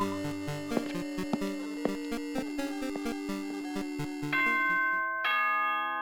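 Doorbell-style chime from the video game Danganronpa 2: Goodbye Despair, a run of bright tonal dings over game music, ending in sustained ringing tones, loud and close with no talk.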